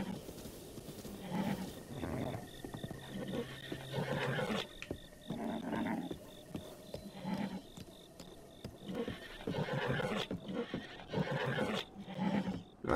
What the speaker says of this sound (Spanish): Ahí estamos con el caballito de Zelda.